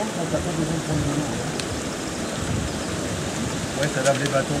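A forest stream flows in the Vosges mountains, making a steady broadband rush of water close by with no break. A few faint knocks and clicks come near the end.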